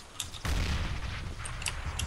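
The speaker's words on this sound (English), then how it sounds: "Grenade out." A grenade detonates in the first-person shooter CS:GO with a sudden loud, booming blast that rumbles on and fades, plus a few faint in-game clicks afterward.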